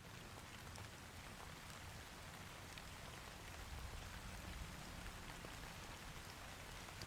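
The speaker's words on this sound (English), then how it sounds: "Rain's back." Steady rain falls in a video game, a dense, even hiss of drops on surfaces that stays constant and fairly quiet throughout, with no voices.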